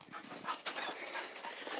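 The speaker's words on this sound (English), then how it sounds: "Redemption, that's my dog right there." A dog pants rapidly up close with soft whimpers mixed in, a short breathy burst of sound.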